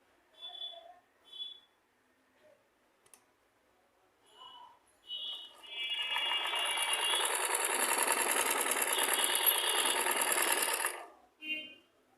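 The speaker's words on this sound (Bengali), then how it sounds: "তো এখন আমি আপনাদের আবারও সেলাই করে দেখাবো যে এই মেশিনের সমস্যাটা সমাধান হয়েছে কিনা।" A sewing machine runs a continuous test stitch after its bobbin tension fault is repaired, a steady close whirring lasting about five seconds, with speech in the clip before and after the run.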